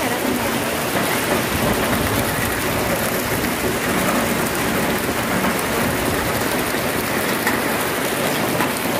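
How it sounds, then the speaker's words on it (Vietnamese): Heavy rain pours nonstop in a strong wind, a loud, dense, unbroken roar of water striking surfaces around a house, with no voices. "Mưa lớn luôn"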